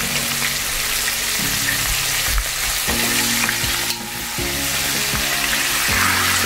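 Vegan chicken pieces frying in hot oil with a steady, loud sizzle throughout, joined by occasional stirring clatter and faint background tones.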